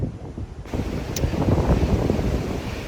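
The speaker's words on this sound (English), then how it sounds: "It's super windy." Strong wind on a mountain ridge buffeting the microphone in low, rumbling gusts, loud and continuous with no voices.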